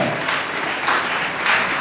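Dense, continuous clapping from guests at a Nigerian engagement ceremony welcoming an arriving couple, loud and steady, swelling slightly near the end.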